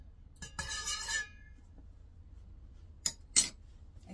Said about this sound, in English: I gotta stir it some.